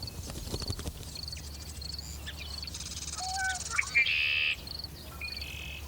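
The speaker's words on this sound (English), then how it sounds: "Flocks of seed-eating birds roll among the ripening grass" Flocks of seed-eating birds in open delta grassland give scattered high chirps and short calls, some close and some farther off, over a low wind-like rumble.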